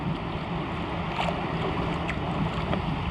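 Wind on a Florida beach makes a constant low rumble that buffets the microphone, and a soft wash of surf sits steadily beneath it.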